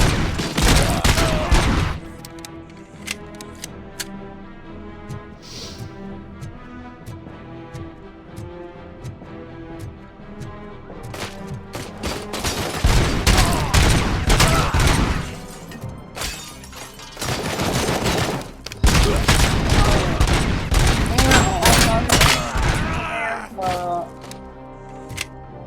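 Gunfire in a RoboCop video game: heavy bursts of rapid shots come in loud clusters, broken by quieter gaps, while someone talks over much of the shooting.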